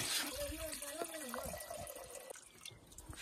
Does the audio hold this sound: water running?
yes